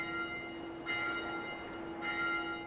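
A bell rings in the video game Dark Souls 2, two loud resonant strikes with long humming decay, alone without speech.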